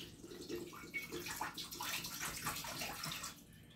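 Water poured from a bottle onto a hot heater unit outdoors, a steady splashing, hissing wash lasting a few seconds at close range, no talking.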